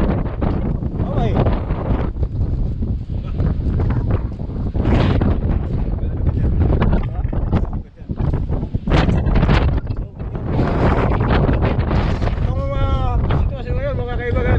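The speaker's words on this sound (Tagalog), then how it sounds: "talagang malakas yung hangin" Strong wind in Saudi Arabia during bad weather buffets the microphone in loud, continuous roaring gusts, with a voice speaking intermittently underneath.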